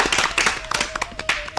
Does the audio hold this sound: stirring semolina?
no